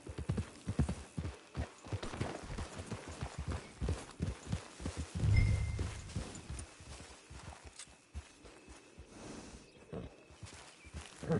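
Horse hooves clip-clopping at a steady walking pace in a video game, a close, rhythmic run of footfalls with a brief heavier thud midway and faint background ambience.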